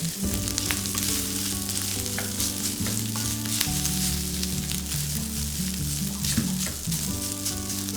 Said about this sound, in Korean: 밥을 넣고는 주걱을 세워서 이렇게 섞어주세요. 풀어주세요, 밥을.